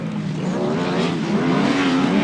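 Grasstrack racing motorcycles at a championship meeting roar loudly and steadily as they accelerate down the straight, the engine pitch rising continuously with no voices over them.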